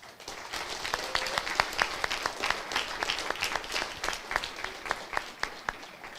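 Moderate applause at a Haschalas Gemorah event, with distinct individual claps standing out in a sparse, rhythmic pattern rather than a dense roar, heard alone without talk.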